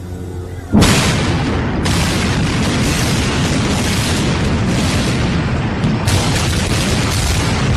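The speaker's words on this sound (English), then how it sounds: "we just heard one more explosion" A large explosion in the 9/11 attacks in New York erupts into a roaring, sustained rumble that swells suddenly and stays loud, with another surge of noise rolling in later.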